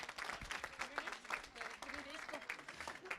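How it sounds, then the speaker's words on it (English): Soft, muffled applause from a group of students at a school district gathering, the clapping mixed with overlapping voices and crowd chatter. "Big round of applause to all of you"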